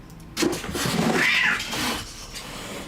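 A cat gives a drawn-out, wavering meow close by, loud and alone against a faint background.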